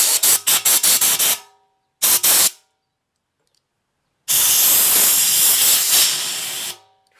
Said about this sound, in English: I just feel like hot steam coming out of there.